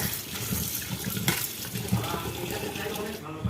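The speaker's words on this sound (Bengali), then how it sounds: "এই যে ডাল ধুয়ে নিচ্ছি ডালটা ধুয়ে নিচ্ছি" Masoor red lentils being rinsed under running water in a rural Bengali kitchen, a continuous close splashing stream with small clinks as the grains are swirled by hand.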